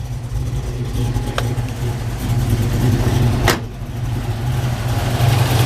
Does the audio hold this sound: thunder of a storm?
no